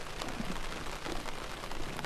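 Steady rain falling on a surface outdoors during a summer fishing trip, a dense, even hiss of drops that runs unbroken and fairly close throughout, with no voices.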